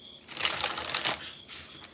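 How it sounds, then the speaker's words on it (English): Tarot cards are shuffled up close in a quick riffling burst of crisp papery flutter, with a short second flick after it. "You love the Wizard's Tarot Shuffle."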